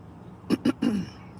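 A man clears his throat in three short rough bursts, the last one longer and trailing off, close up with nothing else around it.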